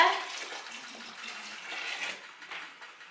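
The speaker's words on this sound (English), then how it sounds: "Add another 2 litres of boiling water." Boiling water splashes and gushes steadily into a bucket for strawberry and watermelon wine, a continuous broadband pouring sound with slight fluctuations, close by and alone.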